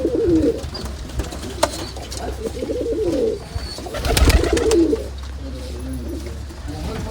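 Pigeons, including fantails, coo repeatedly at close range in a pigeon loft, soft throaty rolling calls in a steady rhythm over a low background hum.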